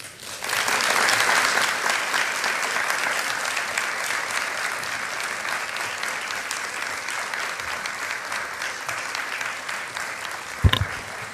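Sustained applause from a church congregation at a young adults' Sunday service, honoring a deacon's testimony; steady, dense clapping fills the room throughout with a brief sharp knock near the end.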